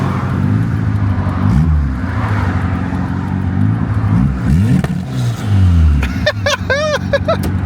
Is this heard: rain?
no